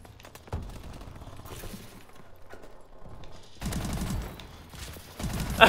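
Video game gunfire crackles in rapid bursts, with a few scattered shots and then heavier sustained automatic fire near the end, fairly close and loud.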